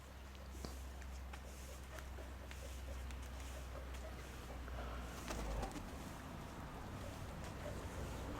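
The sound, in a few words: Koropets pigeons flying and cooing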